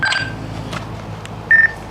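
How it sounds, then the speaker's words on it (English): An Alexa smart speaker plays short electronic notification tones inside a dark house, heard faintly against background hum, with two brief beeps separated by a pause. "Their Alexa has a notification."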